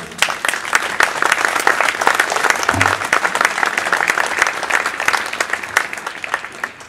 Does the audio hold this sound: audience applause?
yes